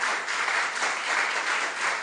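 An audience at a talk or lecture session applauds, steady dense clapping from many hands filling the whole stretch at an even, fairly loud level.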